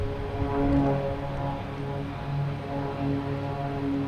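Cape Air propeller plane bound for Nantucket near Boston Logan, a low droning propeller hum with steady engine tones that rise and fall slightly, moderately distant and alone.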